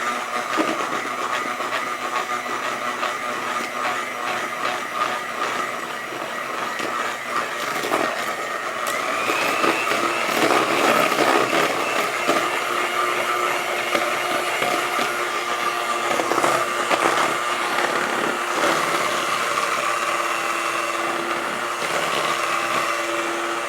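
An electric mixer whipping cream with a cup of white sugar for a Kahlua coffee pie, a steady close whirring drone that shifts pitch partway through as the mixture thickens, running continuously with no talk.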